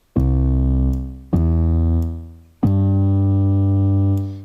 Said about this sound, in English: I'm going to go for drive bass. Sounds like this.